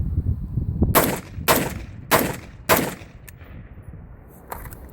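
A Radical Firearms AR rifle with a nearly dry bolt carrier group fires four loud, sharp single shots spaced about half a second apart, followed by a fainter fifth shot after a pause.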